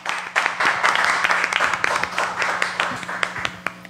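An audience at a virtual fair evening broadcast claps for about four seconds, a dense, even patter of many hands at close range with no voices over it.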